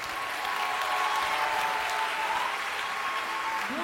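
A church congregation applauds and cheers at a French-language worship service, with dense sustained clapping and a few faint whoops throughout, loud and close, without a break.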